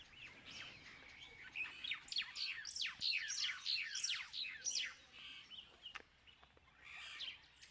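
A Burchell's starling makes a busy, chattering call with rapid harsh notes, joined by a thinner, higher small bird chirping alongside; fairly distant and steady.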